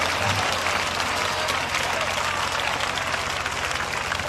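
A church congregation applauds and cheers with steady, dense clapping that fills the space from start to finish, a continuous crowd roar without pause.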